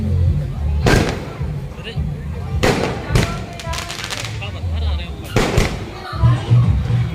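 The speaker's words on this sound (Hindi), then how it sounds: "ये देखिए ये पटाखे फूट रहे हैं यहाँ के।" Firecrackers burst in sharp, scattered pops at irregular intervals over a busy background of crowd noise and music as a wedding procession arrives.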